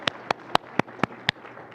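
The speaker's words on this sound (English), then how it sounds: "we're going to give you a clap" Six sharp, evenly spaced claps ring out in a quiet room, given to members of an urban planning advisory committee, with no talk over them.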